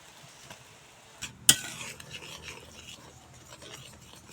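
Spatula rasping against a pan while spices for chickpea dal curry are stirred, a sharp scrape followed by soft continuous rubbing and faint sizzle, close but quiet.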